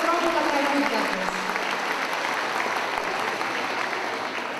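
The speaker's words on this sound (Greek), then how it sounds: "θέλουμε ένα δυνατό χειροκρότημα" Audience applause for a seniors' community-centre choir at a concert in Kalampaka, a broad, steady wash of clapping filling the room from start to finish with no voices on top.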